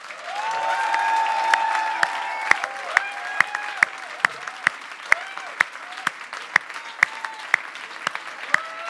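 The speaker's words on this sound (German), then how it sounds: "Applaus" A theatre audience at a German political musical play claps steadily and warmly, a dense wash of applause with sharper individual claps and a few tonal sung or spoken notes near the start.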